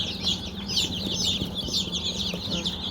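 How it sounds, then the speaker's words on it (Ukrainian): Young chicks, several of them naked-neck chickens, cheep in a constant high, busy chorus at close range, with faint clucks and shuffling underneath. "Дивіться, які гарненькі курчатка. Багато голошийок."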